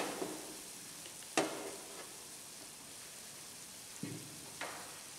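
Madhuban dosa batter cooks in a pan with a soft, steady sizzle and a few faint clicks and scrapes, all quiet and close with no talking.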